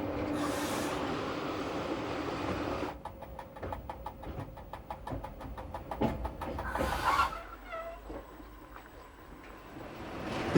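A Chemins de fer du Jura train pulls into Le Noirmont station in Switzerland, its wheels clicking in a steady rhythm over rail joints with rolling rumble and a brief squeal, heard fairly close and without voices.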